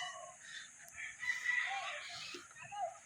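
Chickens at a gamefowl farm cluck and crow, a rooster's call rising in the middle distance over soft clucking and faint background chatter.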